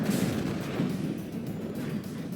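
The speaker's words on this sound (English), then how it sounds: "There's my artillery, alright." Artillery fire in the real-time strategy game WARNO, heard as low, rumbling booms and distant thuds under a dull battlefield background, with no voices.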